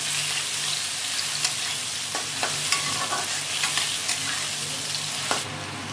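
Sliced onions sizzle in hot oil with whole garam masala spices and a bay leaf, a steady close frying hiss broken by a few sharp clicks of a stirring spoon against the pan.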